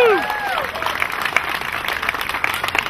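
An audience at a ticket giveaway event applauds the sponsor, producing a lively, uneven burst of clapping; a voice is heard briefly at the very start before the clapping takes over.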